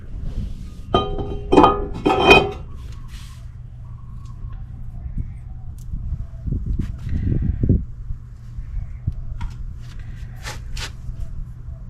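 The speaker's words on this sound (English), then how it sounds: "Putting on my rotor." Metal parts clink and clatter as a front brake rotor is fitted onto a 2008 Acura RSX, with a quick cluster of sharp clinks early on, then softer knocks and shuffling handling noises.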